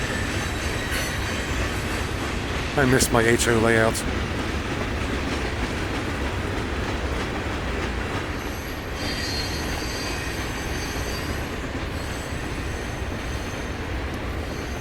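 CSX freight cars roll steadily past at Lander, Maryland, with a continuous rumble and rhythmic wheel clatter, a brief metallic squeal, and a short spoken line over the noise.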